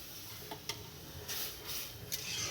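Mung dal hisses in a pan as water and slit green chillies go in, a soft sizzle with scraping stir strokes and occasional sharper flares, faint and close with no voices.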